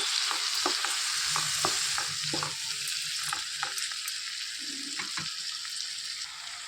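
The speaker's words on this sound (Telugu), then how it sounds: "ఇందులోనికి టమాటా ముక్కలు అనేవి వేసేసుకోవాలండి. మొత్తం కలిపేసుకోవాలి." Tomato pieces stirred into spinach (bachali) curry in a pan, a strong sizzle that eases off gradually while a utensil scrapes and taps in quick repeated strokes.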